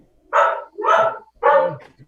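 Three loud dog barks close by, evenly spaced about half a second apart, with no other sounds between them.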